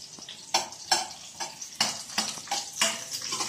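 Garlic and onion sautéing in a pan: a soft sizzle broken by repeated scraping stirs, each a brief rustling burst about every half second, close and fairly quiet, with no talking.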